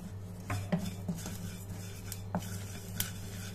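Ajwain seeds roast in a pan on low heat while a spoon stirs, giving soft scrapes and a few sharp metallic clinks against the pan, close and quiet with no talking.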